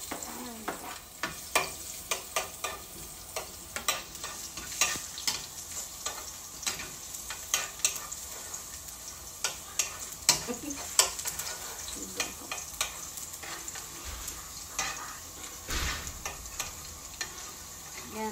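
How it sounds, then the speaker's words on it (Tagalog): Garlic sautéing in a home kitchen pan, steady close sizzle broken by frequent sharp scrapes and clacks of a spatula stirring, with no talking. "Gisa po tayo ng bawang."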